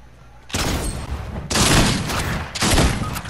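Shotgun blasts in a video game, three heavy booming bursts about a second apart, loud and close, each trailing into a broad roar.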